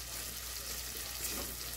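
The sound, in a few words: food frying in a pan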